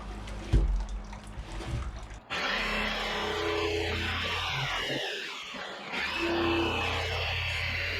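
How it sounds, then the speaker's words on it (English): A jigsaw fitted with a multi-purpose blade cuts through wood, starting with a few short bursts, then running as a loud, steady buzzing roar for several seconds. "I'm just going to be using a jigsaw with a multi-purpose blade, and we'll just cut this out."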